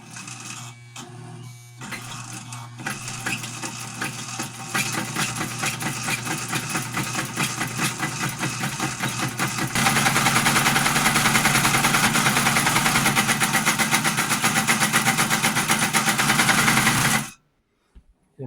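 An Amarko Model 950-B sewing machine, once seized and now freeing up, runs flat out with a dense, steady mechanical clatter that grows louder and faster midway, then cuts off abruptly at the end.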